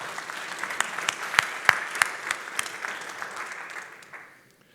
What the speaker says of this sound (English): could you please give a warm round of applause to Marcus from Condor Airline, please